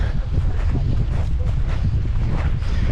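Strong wind buffets the microphone in a continuous low roar, loud and close, at Petra tou Romiou on the coast of Cyprus.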